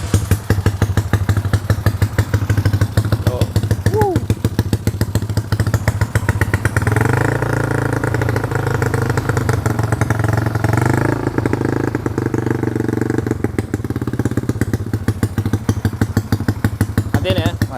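A modified Yamaha Mio Sporty motorcycle engine, bored to 200cc, runs close by with a rapid putter, revving up and settling back, while people talk over it.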